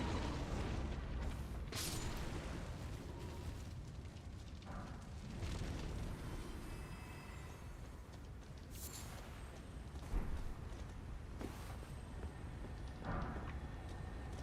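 Bombs thrown in the Elden Ring game explode in a run of dull booms and bursts, several deep thuds over a constant rumbling bed, moderately loud with no voices.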